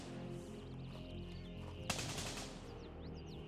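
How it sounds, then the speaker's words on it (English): An oddly voiced gun fires a short burst of rapid shots in the military shooter Gray Zone Warfare, sharp and fairly close, with faint ambient chirps around it and no speech. "It's a weird sound gun."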